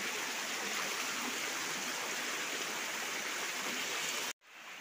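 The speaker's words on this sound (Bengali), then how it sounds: "ঝর্ণার খুব কাছেই চলে এসেছি।" The Napittachora waterfall in Mirsharai, Chittagong, gives a dense, continuous roar of falling water heard close by, loud and steady, then cut off abruptly near the end.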